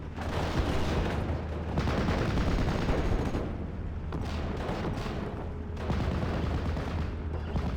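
Steady battlefield din from the Normandy 1944 wargame Steel Division: dense mortar blasts and rattling gunfire in continuous bursts with brief lulls, loud and sustained with no talking.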